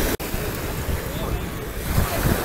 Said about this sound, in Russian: Волны поднялись.